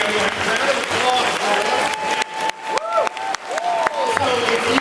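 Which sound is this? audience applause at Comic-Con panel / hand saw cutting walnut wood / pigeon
audience applause at Comic-Con panel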